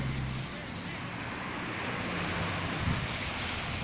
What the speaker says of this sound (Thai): บรรยากาศท้องทะเลครับหาดจอมเทียน